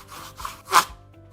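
A rubber belt cleaner rubs against a moving Sand Devil sanding belt in a woodworking shop, giving a brief scraping rasp that swells to one louder gritty stroke and then fades out.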